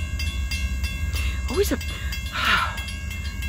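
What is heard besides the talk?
freight train CSO-4 passing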